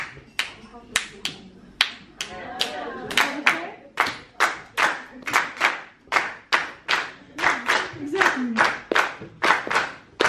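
Concert audience claps along in unison, loud sharp claps in a steady rhythm of roughly two per second, with some voices underneath.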